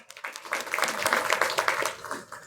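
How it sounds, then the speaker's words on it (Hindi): An audience at a farewell ceremony for an SDM in a Sabalgarh garden claps in a brisk, moderately loud burst of applause, individual claps audible in a quick patter that builds and then tapers off. "एक बार दादा के लिए मैं चाहूंगा आप जोरदार ताली।"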